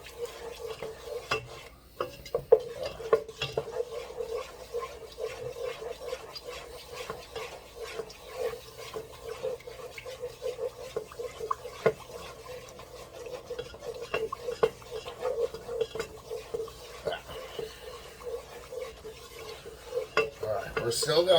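A blonde roux for Cajun jambalaya is stirred in a pot, with a steady scraping and stirring texture, frequent light utensil clicks against the metal and a soft sizzle underneath, continuing without pause.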